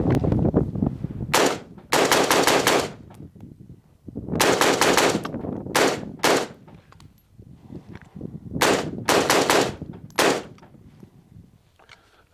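Gunfire from a Global Ordnance Monolith rifle, loud close shots fired in quick doubles and short rapid strings with sharp cracks and gaps between groups.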